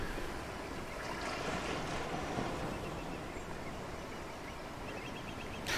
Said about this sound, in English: the ocean sounds are I grew up in an ocean town, and I've got to tell you, that's spot on.